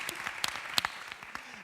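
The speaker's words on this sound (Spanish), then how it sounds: "Un aplauso para ella, por favor." Audience applause at a convention talk on women in publishing, a short burst of moderate clapping with a few sharper individual claps standing out, heard at a distance in a hall.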